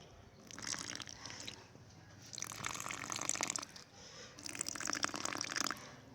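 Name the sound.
water poured from a glass onto seeds in a container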